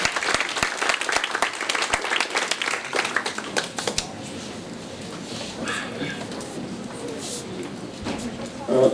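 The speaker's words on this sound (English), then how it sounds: "Please give a big round of applause." Audience applause for the chief guest, the chairman of a charity trust, at a high school annual day celebration: dense clapping near and loud for about four seconds, then thinning into scattered claps under a murmuring hall.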